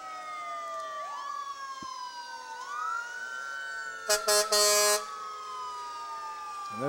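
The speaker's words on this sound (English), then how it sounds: "here comes those fire trucks, and they have sirens a-blaring" Wailing sirens rising and falling in long sweeps from approaching fire trucks in a town day parade, with a short burst of blaring air horn blasts midway.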